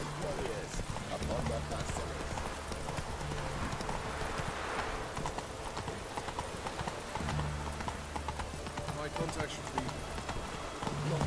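Galloping hooves pound in a steady rhythm through a horse race in The Witcher 3 video game, with a brief whinny, loud and continuous beneath a voice talking over the action.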